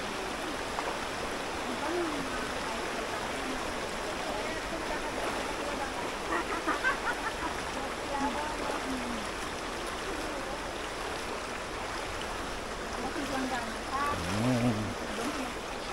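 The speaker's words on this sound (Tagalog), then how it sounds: "Lakas yung agos ng ilog." Strong river current rushes over rocks in a rocky mountain river, a steady broadband wash of flowing water throughout, with brief faint voices in the background.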